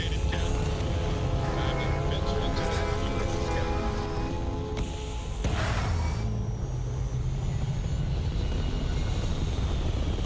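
Spacecraft liftoff effect: a dense, continuous rumbling engine roar with droning tonal layers and a brief swell midway, sustained at high loudness throughout.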